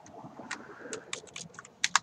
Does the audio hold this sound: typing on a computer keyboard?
yes